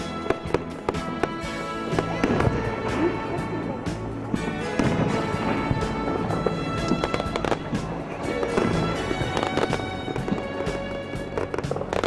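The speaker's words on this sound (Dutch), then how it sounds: "Als afsluiter is er op maandag 17 november een spetterend vuurwerk te bekijken" Festive fireworks display over the Ruppeldijk dike at the Niel annual fair, a dense, continuous crackle of bursts and pops at steady loudness, with faint crowd sounds beneath.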